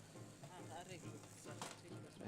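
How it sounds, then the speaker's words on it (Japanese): Water boiling in a large pot over a fire, being readied for cooking sorghum at an outdoor food festival in Tokyo; a steady bubbling hiss runs throughout with voices chatting in the background. "Okay, it's boiling."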